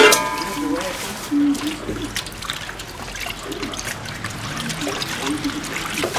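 Food being rinsed under running water in a home kitchen while a soft-shell turtle dish is prepared, a steady trickle and splash continuing throughout with occasional clinks and background noise.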